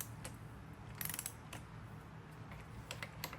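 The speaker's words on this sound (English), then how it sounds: "we got this set at 16 foot-pounds. All right, that one clicked." A torque wrench set to 16 foot-pounds, used while fitting a BBR 170cc big bore kit on a KLX140, gives a few faint, sharp mechanical clicks over a low background hum, with a small cluster of them near the middle.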